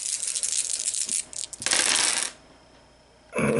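Ten-sided dice rolled on a tabletop during a Pathfinder game, a bright rattling clatter of hard plastic bouncing and skittering in several bursts, with a short lull before a final rattle, close and fairly loud with no talking.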